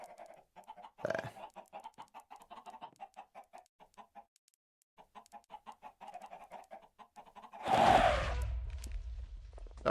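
Chickens in the Minecraft ATM10 modpack cluck in quick rhythmic bursts, close and fairly quiet, pausing briefly before resuming, then a sudden loud burst of noise cuts across near the end.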